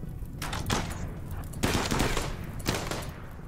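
Bursts of gunfire from attackers in RimWorld, a few loud overlapping volleys with dull thuds spread across the moment, fairly close and continuous.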